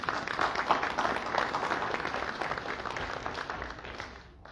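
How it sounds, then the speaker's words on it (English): An audience at Murray Bridge All Culture Fest, a multicultural community festival, gives a warm round of applause acknowledging partner organisations, dense clapping that holds steady and then tapers off. "A round of applause if you would mind."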